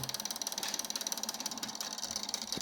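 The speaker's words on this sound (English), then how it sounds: "You will see that the motor is still running for some time." A Draksler string pulse motor keeps running after power is cut, giving a fast, steady ratcheting clatter of rapid regular mechanical ticks, close and fairly loud, with no talking.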